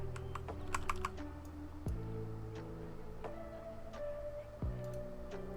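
Computer keyboard typing while playing Planet Zoo: bursts of quick, light key clicks, clustered early and then sparse, over steady sustained game music and tones.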